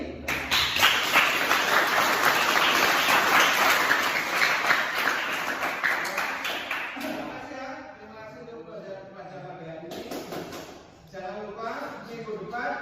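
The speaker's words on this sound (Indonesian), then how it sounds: "kalian kalau menyenangkan tepuk tangan yang paling kencang" Students clap loudly in a classroom during a vocational practice lesson, a dense, steady burst lasting about seven seconds before fading as a teacher's voice takes over.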